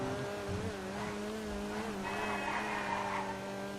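A weak, light front-wheel-drive car in GTA V skids through a corner, with tire squeal and a droning engine holding steady and loud throughout, with no talking.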